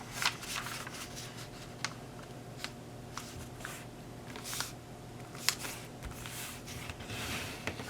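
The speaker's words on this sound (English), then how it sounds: "And rotate, and fold this edge to here." Paper being folded and sharply creased while making an 8x8 grid for a cube flasher model, heard as a series of soft, close crinkles and rustles at irregular intervals with no talking.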